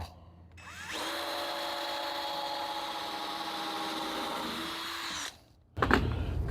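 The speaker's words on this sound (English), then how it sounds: "I pre-drill every hole I make." A power drill whirs steadily for several seconds as it bores into wood, then winds down, followed by a brief clatter.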